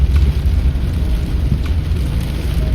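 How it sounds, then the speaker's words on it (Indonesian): Heavy rain drumming on a Daihatsu Ayla 1.2 at night on a road trip, a dense, loud, steady roar with low rumble from inside the car. "kalau ada kondisi hujan deras gini"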